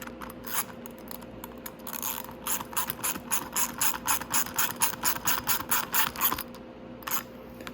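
Rapid ratchet clicking as a wrench tightens the headlight mounting bolts on a Venom 125cc motorcycle, a close, steady run of sharp clicks in bursts with brief pauses, no talking.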